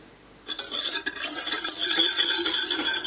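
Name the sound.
stirring sugar and water in a saucepan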